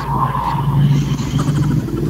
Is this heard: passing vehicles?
yes